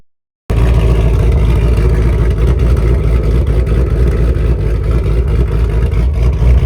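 A 1000+ hp Shelby GT500 driving, its engine a deep loud continuous drone heard from inside the car, starting abruptly after a brief silence and holding steady with slight rises in pitch.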